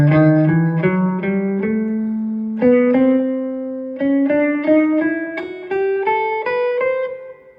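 An electric guitar plays a run of single blues-scale notes in A, each note cleanly picked and sustained, stepping steadily upward in pitch, loud and close with no talk.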